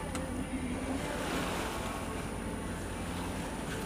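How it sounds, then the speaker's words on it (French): Sailboat motoring under engine power on a windless sea near Porquerolles toward the Toulon roadstead, a steady low engine drone with water wash and light wind noise, continuous and moderately distant, no voices. "nous, on fait route au moteur"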